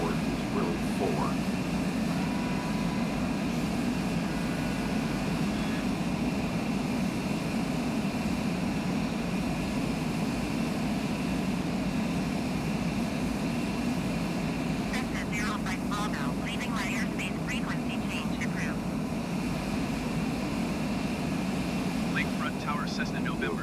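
A Cessna propeller plane engine in Microsoft Flight Simulator drones steadily and evenly throughout, with someone talking over it most of the time.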